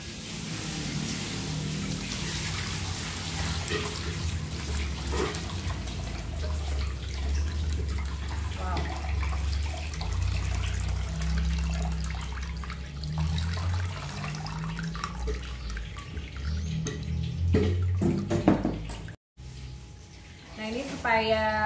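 Whey drains from mozzarella curd pressed by hand in a strainer, a steady close trickle and splashing of water while a person talks over it in Indonesian.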